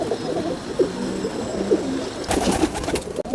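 Large pale pigeon with white feet and a leg ring, cooing in a few soft repeated phrases close by, with a brief burst of rustling near the end.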